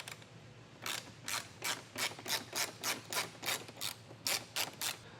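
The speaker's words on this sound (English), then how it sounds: "you're going to find that we have a T40 Torx bit to remove the bolts" A ratchet driving a T40 Torx bit to remove grille bolts on a 2023 Jeep Grand Cherokee during a base plate install, a dozen quick, close clicking ratchet strokes in a steady rhythm, with no talking.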